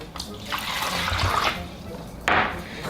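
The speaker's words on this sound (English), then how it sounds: "Pour the hot water into the bowl." Hot water is poured into a bowl holding dry ramen noodles, a continuous splashing, gurgling pour that swells and eases over a few seconds, close by with a voice speaking over it.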